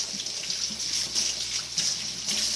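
Tap water runs steadily into a sink as hog chitlins are rinsed, a continuous close hiss and splash with small fluctuations and no talking.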